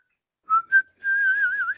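A person whistles a few short notes, then a longer wavering phrase, clear and close in an otherwise quiet space.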